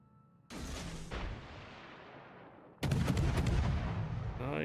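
Warship guns firing SAP rounds in the World of Warships naval combat game: an opening heavy boom, a second shot about a second later, then a louder, denser salvo near the end, with a faint voice underneath.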